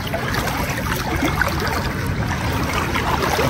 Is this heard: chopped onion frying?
no